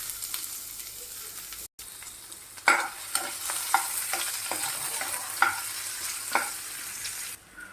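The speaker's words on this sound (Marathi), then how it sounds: "आता यात आपण चिरलेला कांदा टाकायचा आहे, शॅलो फ्राय करून घ्यायचा." Chopped onion shallow frying in a pan with whole spices, a steady sizzle broken by repeated clicks and scrapes of stirring, with no talk.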